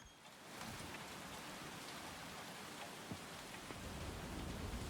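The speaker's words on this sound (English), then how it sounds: "Right, it's raining today," Steady rain falls in the video game Coral Island as a dense, continuous hiss that starts just after the opening and holds at an even, moderately loud level throughout.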